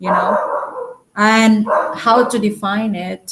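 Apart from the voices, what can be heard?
dog barking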